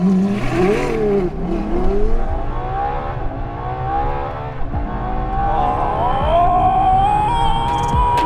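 Ferrari LaFerrari launching hard from a standstill, its engine climbing steadily through the revs in a loud, continuous rising roar that stays close throughout.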